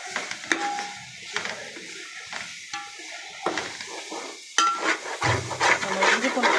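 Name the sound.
stirring mint, coriander, ginger garlic in biryani pot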